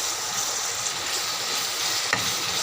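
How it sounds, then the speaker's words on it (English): Onions frying in a pan with mint leaves for an Andhra-style fish masala curry, a constant close hiss of sizzling oil with one brief stirring scrape near the end. "So this onions has been frying."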